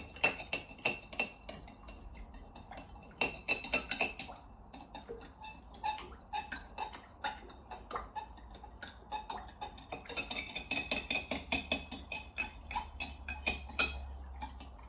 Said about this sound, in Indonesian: Aduk, aduk, aduk, aduk, aduk, aduk sampai tercampur rata.